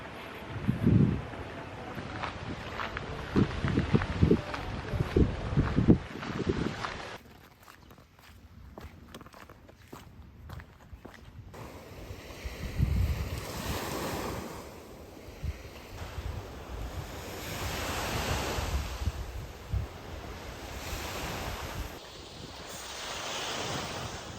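Sea wind gusts across the Sokcho coastline after rain, with waves surging in the background and footsteps crunching along a breakwater, the wind buffeting loudly and steadily at close range.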